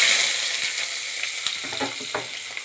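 Ash gourd peel, potato and onion hit hot oil in a kadai and fry with a loud, close sizzle that fades slightly, broken by a few sharp clicks of stirring and no talking.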